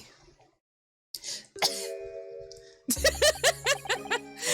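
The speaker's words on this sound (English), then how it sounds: "I had the cough happen at the same time." After a brief silence, a short cough and throat noise, followed by a run of rapid, voiced, hiccuping coughs or chuckles close to the listener.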